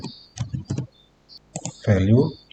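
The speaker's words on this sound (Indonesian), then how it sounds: "kita ketik value" A few quick clicks of typing on a computer keyboard, close and crisp, followed by someone speaking.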